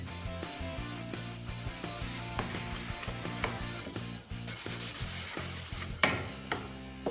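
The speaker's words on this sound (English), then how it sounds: "So the next step is to get sanding." Steady rhythmic scraping of sandpaper rubbing back and forth across a wooden noodle board, close up, with background music playing throughout.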